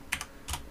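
A few quick keystrokes tapped on a computer keyboard while coding in NetBeans, two close clicks followed by a brighter double click, fairly near and alone with no talk.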